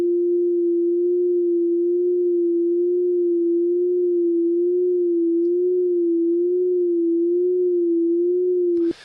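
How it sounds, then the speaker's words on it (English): A steady pure sine tone hums alone at a low-mid pitch through a chorus effect, wavering gently up and down in a slow, regular warble before stopping abruptly. "putting a sine wave through a chorus device, and then we'll see how it's changing the pitch of the sine wave"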